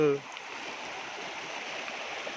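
Steady rushing of the Sutlej River, running full to the brim, a continuous broadband wash that stays even throughout, with a brief low tone at the very start.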